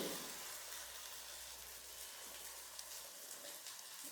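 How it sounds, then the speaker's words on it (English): Urad dal bonda batter frying in hot oil, a steady, soft crackling sizzle with fine popping bubbles and no voices. "Drop it into the hot oil."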